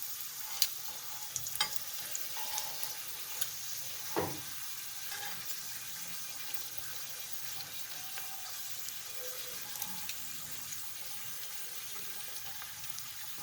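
Potato patties frying on a tava griddle for an egg burger, a steady low sizzle with occasional spatula knocks and scrapes against the metal.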